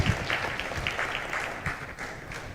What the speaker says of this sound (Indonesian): mohon sekali lagi untuk tepuk tangan yang meriah kepada para pembicara malam ini